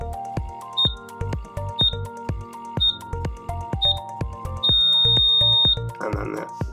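An UltraRAE 3000 gas monitor gives a series of short, evenly spaced electronic beeps during its shutdown countdown, ending in one longer tone, amid light clicks and handling noise nearby.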